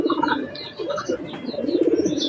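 Pigeon coos from a 25 km tournament racing cock bird, soft repeated rolling calls close by, with a few higher chirps from other birds around.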